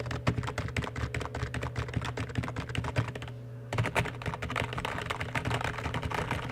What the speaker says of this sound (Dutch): Maar dit is dus het keyboard van Corsair.